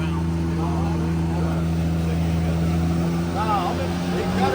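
A water-recycling sewer cleaner truck engine runs loud and steady close by, its drone climbing slightly as the throttle is raised, with brief talk over it.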